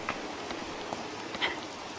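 Rain falls in the video game Zelda Breath of the Wild, a soft, even patter of drops with a few brighter taps over a faint steady wash.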